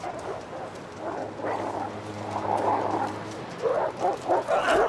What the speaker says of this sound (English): I hate Timberwolves in fucking Wintermute.